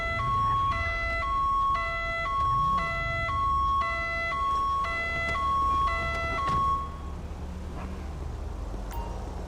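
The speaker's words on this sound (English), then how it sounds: "So he's got a siren on. That's gonna be painful." A police siren sounds in a video game as a loud two-tone wail alternating in a regular rhythm for about seven seconds over low vehicle rumble, then cutting off and leaving engine and street noise.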